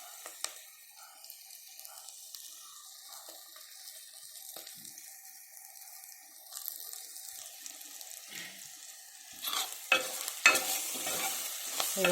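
Onions fry in a pan for spinach khichdi with a low, steady sizzle and soft stirring scrapes, and the sound grows louder and busier toward the end.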